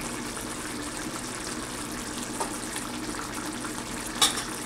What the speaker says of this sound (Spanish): Lo vamos agregando y lo vamos meneando.